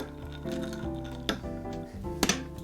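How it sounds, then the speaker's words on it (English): A sherry and tonic cocktail is gently stirred in a glass, giving a couple of soft, bright clinks over a low steady background hum. "you just want to give it a very gentle stir"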